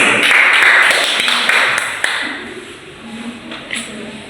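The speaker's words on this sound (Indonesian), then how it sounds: "Mari kita berikan tepuk tangan untuk Lisa." A short burst of applause from a small group after a micro-teaching presentation fades out, followed by faint tapping and a brief voice in the background.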